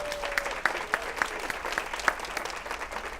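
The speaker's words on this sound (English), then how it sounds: "give these ladies a very warm round of applause" Applause from a small audience at a talk held in a Home Depot store, a steady patter of many hands with a few sharper individual claps standing out, fairly close and without speech over it.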